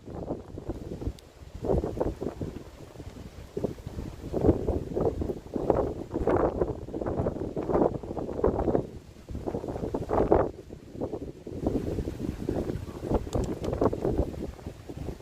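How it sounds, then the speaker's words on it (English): Heavy wind buffets the microphone in continuous rumbling gusts, loud and close, rising and falling throughout with no clear voices. "I apologize for it being so windy"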